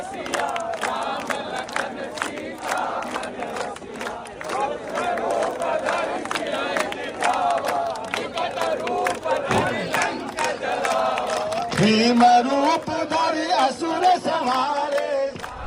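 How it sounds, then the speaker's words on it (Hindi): Protesters at a Jantar Mantar demonstration against UGC reservation rules chant a religious slogan together, a dense roaring crowd voicing rhythmic calls that swell louder near the end. "नारेबाजी और भाषणों के बीच अचानक कुछ प्रदर्शनकारी हनुमान चालीसा पाठ करते और सियावर रामचंद्र की जय के नारे लगाते नजर आए"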